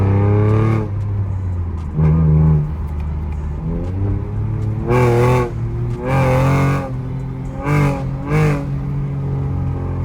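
A Chevrolet Camaro engine revs up and winds back down repeatedly, its pitch sweeping between loud throaty bursts.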